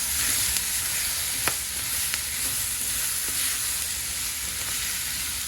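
Ground venison and white rice sizzle and fry steadily in a pan, a constant close hiss with a few light clicks of stirring, no voices.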